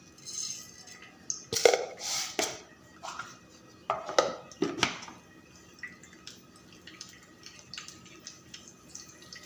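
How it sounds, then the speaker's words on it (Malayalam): Mustard seeds dropped into hot oil in a pan for an egg curry, giving a few sharp bursts of crackling and popping followed by scattered lighter pops and faint clinks, close up, with no talking. "അതിൽ നമ്മൾ കടുകിടുകയാണ്."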